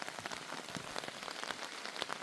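Rain falls at night on a hammock shelter in the mountains, a faint, steady patter of drops tapping close overhead, with no voices.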